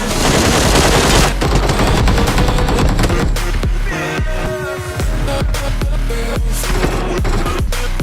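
Automatic gunfire in the battle royale game PUBG crackles in loud rapid bursts, with fast repeated shots and brief gaps between volleys, close and dominant.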